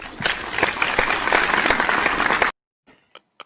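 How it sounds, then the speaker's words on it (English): Clapping and applause from a crowd at a Zoom wedding ceremony, dense and energetic for about two and a half seconds before cutting off abruptly into near silence with a few isolated faint taps. "Get the claps in."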